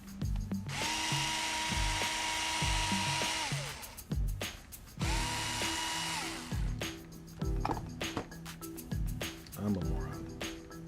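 A cordless power drill set to low torque drives screws into a Traxxas Slash LCG front differential in two long whirring bursts, each winding up and down, followed by short clicking taps and handling noises.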